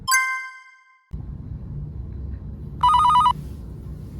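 A telephone rings in a medical office during a doctor's call: a bright chime fades, then after a pause a short electronic trilling ring sounds over a low room hum.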